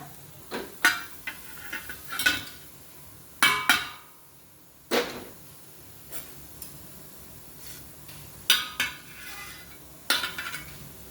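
Roasted tomatoes are moved into a bowl in a home kitchen, with sharp scattered clinks and taps of a utensil against the dish separated by quiet gaps.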